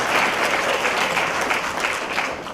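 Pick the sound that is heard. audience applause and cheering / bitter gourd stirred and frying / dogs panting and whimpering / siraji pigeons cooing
audience applause and cheering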